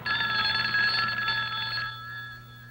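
A telephone bell rings in a steady, continuous trill for nearly two seconds, then stops, leaving a quieter room behind it.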